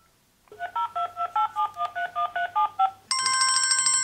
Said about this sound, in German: Frau Müller wählt eine Nummer auf ihrem Smartphone.